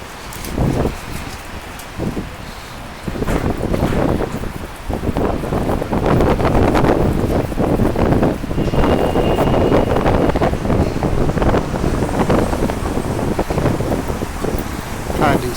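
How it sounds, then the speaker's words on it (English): Strong wind blasts into the microphone outdoors on a street near Plaza de Catalunya in Barcelona, a loud continuous roaring buffet that swells and gusts throughout, with a voice talking faintly under it. "See how bad the wind's blowing?"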